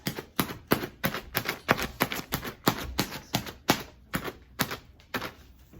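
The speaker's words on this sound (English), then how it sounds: "I'm going to poke just like 10 to 15 holes with a pencil" Pencil poking holes in a plastic lettuce grow bag, producing a quick series of sharp, close tapping pops, around fifteen punctures in an uneven rhythm.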